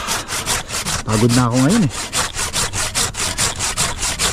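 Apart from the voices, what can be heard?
hand saw cutting tree branch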